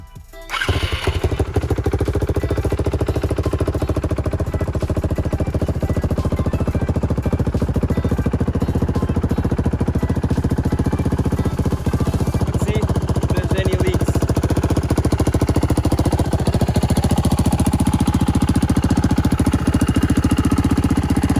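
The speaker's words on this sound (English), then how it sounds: "I'm about to start this four-wheeler, see if it leaks" A four-wheeler with an oil leak starts up with a short crank and catch, then settles into a steady, loud, rattling idle that runs continuously and close by.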